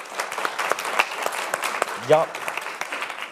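An audience at a panel discussion on lobbying claps steadily throughout, dense and close, with a brief spoken word cutting in near the middle.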